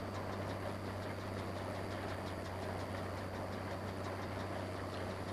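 Tractor engine in the farming game Farming Simulator 15, a steady low idling rumble with a faint rhythmic knock, moderately quiet and continuous, with no voices.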